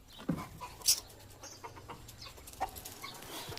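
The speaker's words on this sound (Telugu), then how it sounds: "ఈ 2 పుంజులు 4 పెట్టలు, 3 పుంజులు 4 పెట్టలు ఉన్నాయి మా ఇంట్లో" Roosters and hens in a backyard, with a few scattered clucks and short calls, fairly faint over quiet outdoor ambience.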